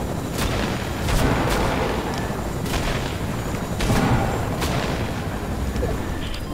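Rapid gunfire from a drum gun and pump shotgun in Fortnite, with sharp, loud cracks and bursts at an irregular rhythm over a dense battle din.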